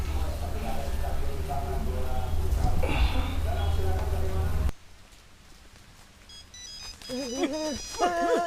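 A phone ringtone sounds for an incoming call, a melodic electronic tone that starts partway through after a loud noisy stretch and plays in clear repeating phrases, close and fairly loud.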